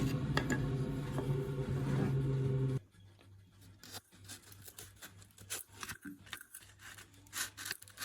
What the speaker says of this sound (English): I shall sand this next using a sanding stick